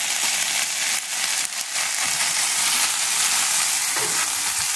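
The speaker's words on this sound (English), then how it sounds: "Pretty fast stir fry out on the Blackstone griddle." Leftover stir fry with teriyaki-style sauce, fig, onions and ginger sizzles loudly and steadily on a Blackstone griddle, with a few brief dips, and no voices over it.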